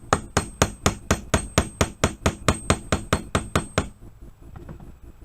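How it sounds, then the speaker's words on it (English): A metal hammer strikes a steel punch to drive out a pin on an SKS rifle: about fifteen sharp, evenly spaced blows in quick succession, close and loud, then the tapping stops and near-quiet remains. "I'm going to use the metal end of the hammer now, since I'm punching or hitting on the punch and not the actual pin"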